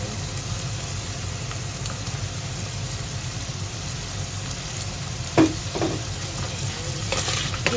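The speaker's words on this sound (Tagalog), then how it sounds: "Gigisa ko lang itong karne para masarap-sarap." Meat for adobo sautéing in a pan, a continuous close frying sizzle with a few louder stirring scrapes near the end, heard alone without talk.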